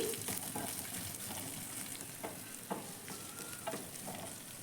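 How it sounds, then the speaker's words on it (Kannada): Onion, green chilli and garlic frying in a pan, a steady close sizzle punctuated by occasional spatula scrapes and taps, with no voices. "ಈರುಳ್ಳಿ ಮತ್ತು ಮೆಣಸಿನ್ಕಾಯಿ ಬೆಳ್ಳುಳ್ಳಿ ಎಲ್ಲ ಆ್ಯಡ್ ಮಾಡಿಕೊಂಡು ಇವಾಗ ನೀಟಾಗಿ ಫ್ರೈ ಮಾಡಿ"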